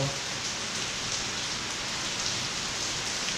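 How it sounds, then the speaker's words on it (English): Heavy rain pours down steadily, a dense continuous hiss of drops drumming on surfaces with no pauses. "The rain just picked up a lot, as I'm sure you guys can tell."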